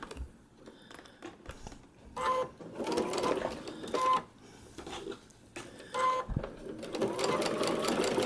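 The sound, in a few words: sewing machine stitching a paper pieced quilt block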